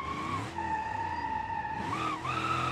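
A car drifts in the BeamNG driving game, played on a MOZA R21 direct-drive wheel. Its tires squeal loudly and steadily over the engine's hum, with the pitch dipping and swelling as the slide changes, and nobody speaks.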